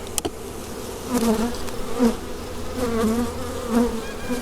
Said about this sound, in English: There's a lot of angry bees that are bouncing off of me.